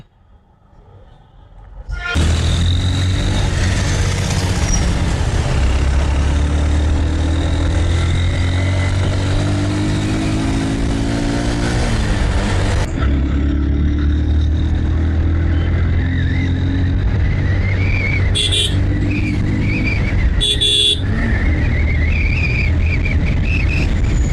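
A motorcycle ridden fast, its engine rising from quiet into a loud sustained roar with climbing gear tones, then dipping at a shift and pulling on steadily.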